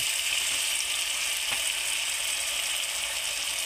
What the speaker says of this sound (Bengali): এবার একটু নাড়াচাড়া দিয়ে দেবো।